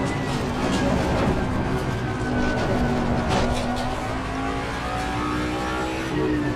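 A Ford Mustang GT3 race car engine in Assetto Corsa Competizione drones steadily and loudly, with rising and falling rev tones through the gears and no pauses.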